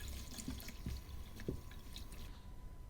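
Freshly picked nettle tips get a quick rinse under water, with faint drips and small splashes over a soft, steady watery background, low in level and close by.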